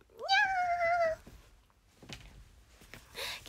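A voice imitates a cat, drawing out a high, wavering meow for about a second, followed by softer breathy sounds and a brief burst of noise near the end.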